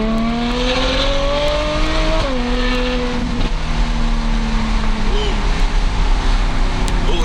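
Tuned Ferrari F12 fitted with an FI exhaust, heard from inside as it pulls hard in second gear on a road. The engine note climbs steadily, drops sharply at a shift, then climbs again under a constant loud roar.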